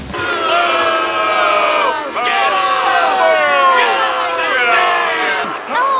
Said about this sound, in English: boo all your booing! Boo booing!